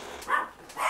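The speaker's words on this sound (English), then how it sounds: "Well, they're going to be barking for a while." A dog barking indoors, two short separate barks at moderate loudness, fairly close, with no talk.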